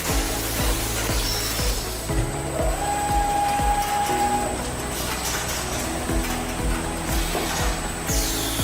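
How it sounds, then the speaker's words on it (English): Automatic carton strapping machine on a full-auto packaging line doing side strapping, a steady mechanical whir and hum with repeated clunks and clicks at a regular rhythm, loud and close, with a brief high whine in the middle and no talk. "Third strapping from carton side."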